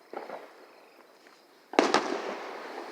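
Fireworks go off near an abandoned, torn-down train station: faint crackles at first, then two sharp, loud bangs close together with a crackling, rumbling tail.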